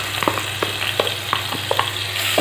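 Chicken fries in hot oil in a pot, a continuous sizzle broken by irregular scraping taps of stirring, close and steady with no talk.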